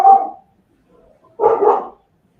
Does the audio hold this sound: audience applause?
no